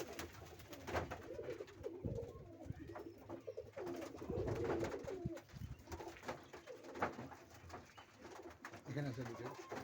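Pet pigeons coo repeatedly at close range in a steady, busy loop of low, throaty calls, with faint voices and household noise mixed in.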